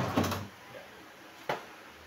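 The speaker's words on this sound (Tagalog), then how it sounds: "May mga sliding drawer dyan mga kabags." Two separate sliding drawers on rollers in a home kitchen cabinet bump open or shut about a second apart. Each is a short, close thud followed by quiet.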